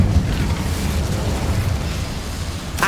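The Incendio fire spell cast in Hogwarts Legacy, a steady roaring, rumbling whoosh of flame that stays loud and dense throughout with no breaks.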